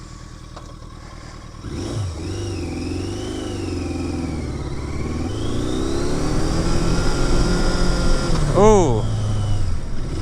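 A Yamaha XJ650 Turbo motorcycle short on power revs loudly, its engine note rising and falling with a sharp blip near the end, while a voice speaks briefly over it.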